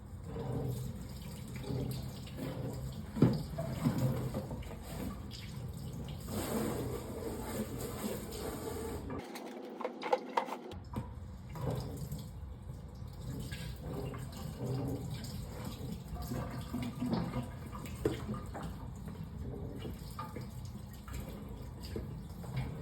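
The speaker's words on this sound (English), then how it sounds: "so I'm going to use the faucet and just get both sides wet" Water from a faucet runs continuously over cardboard, splashing and pattering unevenly, with a brief pause midway before the flow resumes.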